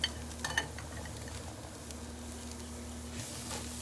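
A thin piece of tri-tip steak sizzles quietly in a pan, a soft steady hiss that opens with a few pan clinks.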